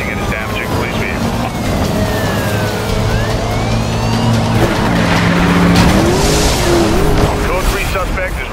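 Race car speeding through a police pursuit in the game Need for Speed Rivals, a loud continuous engine roar with rising and falling revs and tire squeals, mixed with radio voices and siren-like tones.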